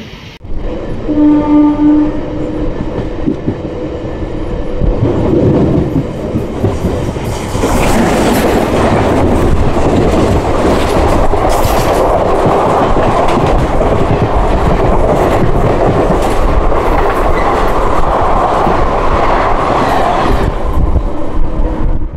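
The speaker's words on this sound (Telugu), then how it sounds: "మన ట్రైన్ అయితే తణుకు డిపార్ట్ అయిపోయింది" The 17239 Simhadri Express passenger train rumbles loudly along the tracks near Nidadavolu with steady rattling and clatter, a horn-like tone sounding briefly at the start before the roar builds.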